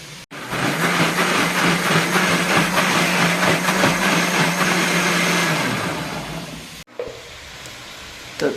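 Close, loud blender grinding onion, green chili and yogurt into a paste, a steady whirring roar for about six seconds that winds down and stops, followed by a brief clatter and quiet room noise.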